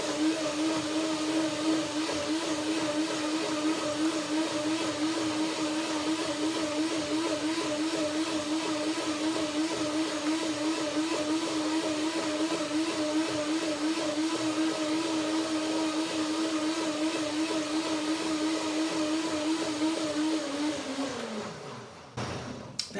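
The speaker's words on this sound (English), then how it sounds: "just to get the blender going" Kitchen blender whirring as it purees cashew banana cream, a loud steady motor whine with a slightly wavering pitch that runs for about twenty seconds before spinning down and cutting off at the end.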